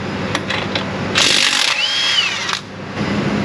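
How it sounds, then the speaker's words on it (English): Ratchet working an 18 mm nut during strut or brake work on a car in a repair shop, giving a few quick clicking bursts and a brief whirring spin, close up, with no talk. "I got my ratchet on loosen."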